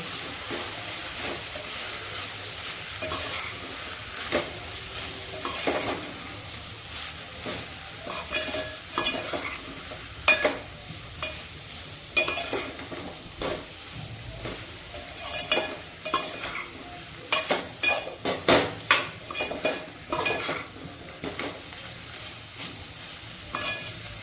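Ginger garlic paste and spices being sautéed for soybean pulao, a long steady sizzle with repeated scraping and clattering stirs that come faster and louder toward the end, with no voices.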